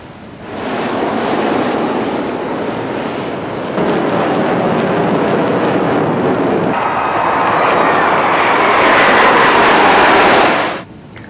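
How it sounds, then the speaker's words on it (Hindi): Loud, continuous jet roar from an Indian air show with the Surya Kiran aerobatic team, Sarang helicopter display team, Prachand light combat helicopters and Dhruv advanced light helicopters overhead, swelling and shifting for about ten seconds, then cutting off. "सारंग हेलीकॉप्टर डिस्प्ले टीम और सूर्य किरण एरोबॉटिक्स टीम भी हवा में अपने हुनर दिखा रही है"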